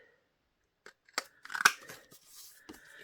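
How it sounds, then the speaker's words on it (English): A small hole punch crunches through paper with a few short, crisp snips and tearing clicks close by. Quiet rustling fills the gaps, and no one speaks. "all I do then is I use my little hole punch"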